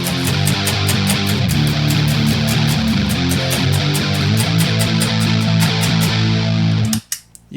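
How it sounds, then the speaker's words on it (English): An electric guitar runs through a fast-sweeping jet-engine style effects pedal with distortion, producing a loud, rapidly pulsing whoosh over sustained chords that stops abruptly near the end. "It's like the jet engine thing, but it's really fast."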